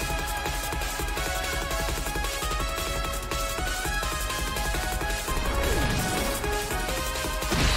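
Attack landing in the Pokémon Battle Revolution video game, a crashing impact burst set within dense, continuous game music and effects, loud and busy throughout.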